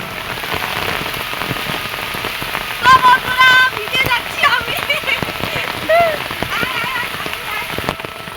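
Rain from a stormy day pours steadily on surfaces around a village home, a dense close hiss with pattering drops; brief voices or calls rise over it midway.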